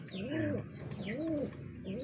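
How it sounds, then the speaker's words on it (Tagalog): Pigeons in a loft cooing up close, three rising and falling coos in a steady rhythm, soft and clear with no one talking. "So tingnan natin yung iba natin na kalapati."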